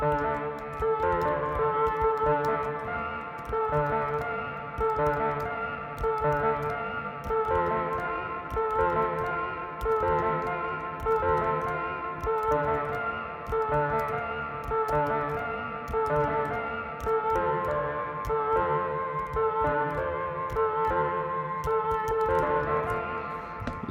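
A hip-hop beat built from Kontakt sample library sounds, with steady layered melodic synths over a thumping low end, loud and continuous throughout with no talking.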